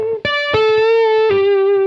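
Distorted electric guitar plays a few tapped notes bending into a bluesy blue note, each pick-up sharp and sustained with a thick, saturated tone.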